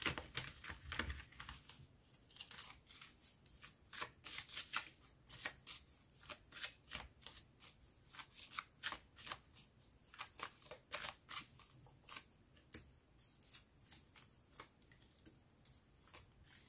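Tarot cards are shuffled for a reading, producing rapid crisp riffling bursts and flicks repeated in uneven clusters, close and fairly quiet, with no one speaking.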